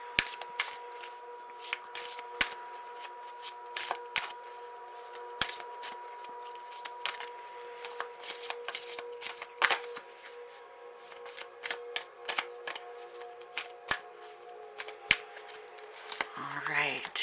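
Karma oracle cards being shuffled in a deck, a steady run of crisp riffling snaps and soft card slaps close up, going on throughout over a faint background hum, with no talking.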